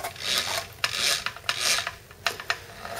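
Angle grinder gears being turned by hand with the tool upside down, heard as close, quiet rasping whirs that come in several short repeated strokes.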